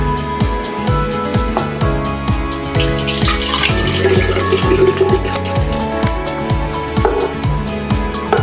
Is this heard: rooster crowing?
no